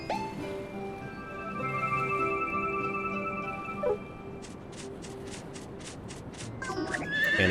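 A horse whinnies once in Harvest Moon The Winds of Anthos over a sustained game music bed, followed by a run of quick, evenly spaced hoof clops near the end.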